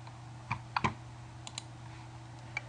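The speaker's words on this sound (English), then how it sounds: "I'm just going to pick 2 and click Save." Several light, sharp computer clicks sound close in a quiet room while an eBook is set up for Kindle upload, scattered irregularly over a few seconds against a faint steady hum.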